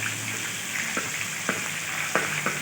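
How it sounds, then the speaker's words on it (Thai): Red curry paste fries in hot oil in a pan, giving a steady close sizzle with a few soft scraping stirs and no voices. "เราก็เอาน้ำมันใส่กระทะตั้งไฟครับผม แล้วก็ ใส่พริกแกงของเราลงไปครับ"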